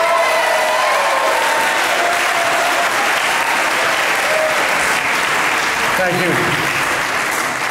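A loud, sustained round of audience applause for a birthday at a morning event, dense clapping throughout with voices speaking briefly over it near the end.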